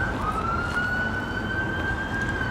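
An approaching ambulance siren sounds on a downtown Toronto street on a Friday evening, a loud, steady tone that climbs slightly over a constant rumble of city traffic.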